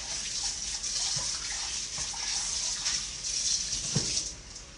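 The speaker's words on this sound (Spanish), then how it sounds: "Se le da una enjuagadita y así no tiene que fregar tanto." Tap water runs steadily to rinse out a cup for making Puerto Rican coffee, a continuous close splashing gush lasting several seconds, with no voices.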